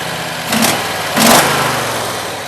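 A Predator 670cc engine with the governor bypassed, new coils, carb and plugs, worked by a foot-pedal throttle, idles loudly and close, then gives two brief rising revs.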